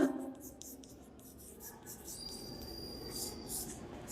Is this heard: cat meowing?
no